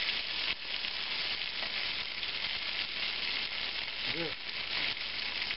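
Potatoes with bacon and onions fry in a pan, a steady close sizzle and hiss, with a voice briefly speaking over it.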